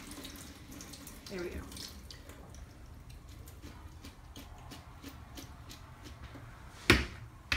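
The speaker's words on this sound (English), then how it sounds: "I can just rinse them off real quick, which I'm going to do. I'm going to use cold water." Cold tap water runs into a sink as Brussels sprouts are rinsed, a steady faint splashing stream with a sharp clatter near the end and a brief spoken remark.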